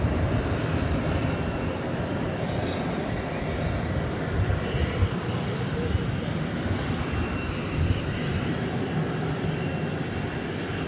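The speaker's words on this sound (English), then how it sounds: "This American Airlines 737 coming in from Mexico City." An American Airlines Boeing 737 arriving at DFW airport at night from Mexico City, a loud continuous jet engine roar that holds steady throughout, with faint voices in the background.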